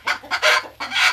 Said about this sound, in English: And this little hen is called, she's an Easter egger, an Americana, and she lays green eggs.